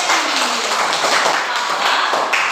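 A classroom of students applauds a classmate, a dense, steady wash of clapping hands that fills the room at close range for a few seconds without pause.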